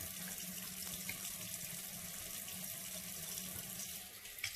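A bathroom tap runs steadily into a sink while someone washes their face. Water hisses continuously and fairly loudly for several seconds, with no talking.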